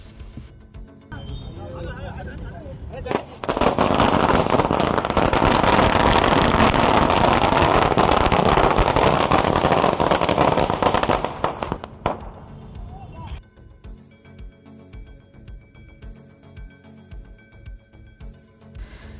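Firecrackers and fireworks set off by a crowd gathered near a hospital crackle in a dense, loud, continuous burst lasting several seconds, with scattered pops before and after.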